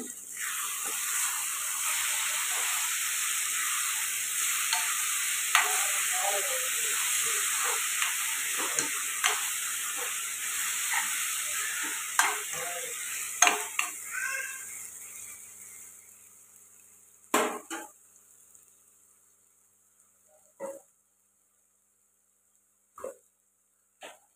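Tomato and brinjal curry frying in a pan, with a steady hiss of sizzling and soft scrapes of stirring that fade out near the end, leaving a few isolated clatters.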